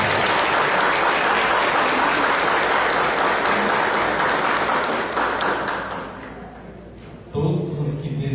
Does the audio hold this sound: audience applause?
yes